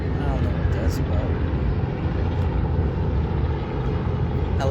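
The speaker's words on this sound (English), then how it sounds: "Helicopters flying over my head." Helicopters flying overhead produce a steady, heavy rumbling drone that fills the whole stretch, loud and continuous, with a person talking underneath.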